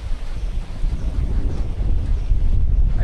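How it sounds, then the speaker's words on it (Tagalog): Strong wind blowing at sea near Coron in the Philippines, a loud, steady low rumble buffeting the microphone throughout with no voices. "mahangin talaga siya."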